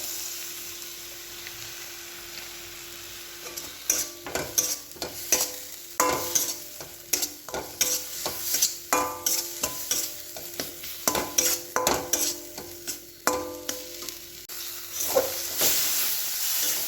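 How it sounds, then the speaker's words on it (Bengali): Masala with potato and papaya fries in a pan while a spatula scrapes and stirs it in repeated sharp bursts over a steady background sizzle and hiss. "এই যে আমার মশলাটা কষা হয়ে গেছে"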